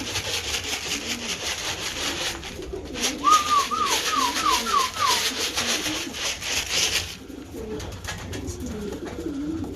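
Racing pigeons arriving back at the loft give a short run of soft, rolling coos midway through, close by, over scuffling and wooden rubbing noises and faint background ambience.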